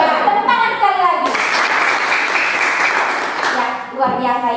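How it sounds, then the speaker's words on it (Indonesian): Children in a classroom clap together in a broad, steady burst of applause lasting a few seconds, with young voices chattering just before it starts and again as it fades. "tepuk tangan sekali lagi"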